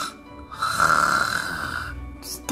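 A person snores loudly and close by: one long, rough, rattling breath lasting about two seconds, heard alone without any talking.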